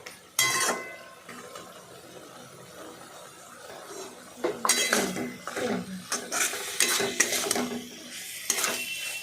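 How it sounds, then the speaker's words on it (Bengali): An egg and flat-bean dish stirred in a pan, with scattered clinks and scrapes of a utensil against the metal and a faint sizzle, irregular bursts of stirring separated by quieter moments. "ভালোভাবে নাড়াচাড়া করতে হবে"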